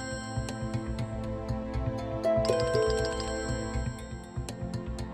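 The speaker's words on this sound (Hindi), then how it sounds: "ये लो, फिर से फोन बज गया।" A telephone rings in a steady repeating electronic pattern, fairly loud against a busy background of music-like tones.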